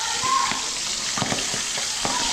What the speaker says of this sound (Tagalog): Prito natin.